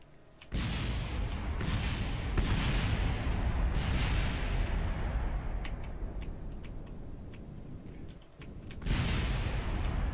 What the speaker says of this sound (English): Those explosions are normal.